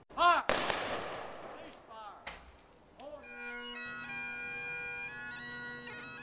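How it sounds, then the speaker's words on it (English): Rifle volleys of a 21-gun salute at a July 4th remembrance ceremony in Pulaski honoring a fallen soldier: one sharp, loud crack, a weaker second report, then sustained steady tones ringing on outdoors. "That's a 21-gun salute marking a special tribute for a fallen soldier during a July 4th remembrance ceremony in Pulaski"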